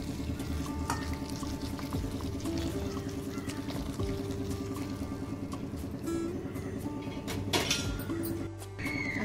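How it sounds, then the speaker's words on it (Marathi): Hot water is poured into a pot of soya chunks in a home kitchen, giving a continuous, close splashing gush with faint clinks and a brief pause before the end. "मी हे भांड्यामध्ये ओतते आणि त्यामध्ये आपण गरम पाणी टाकणार आहोत"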